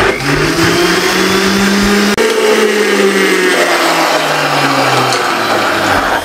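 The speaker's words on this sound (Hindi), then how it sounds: "इसको यहाँ पे कवर लगा दें, यहाँ पे ले आए मशीन पे, इसको ग्राइंड कर दें" A kitchen blender grinds tomatoes for creamy tomato soup, a loud, steady motor whir with a pitch that dips briefly and shifts as the contents churn, running continuously without talk.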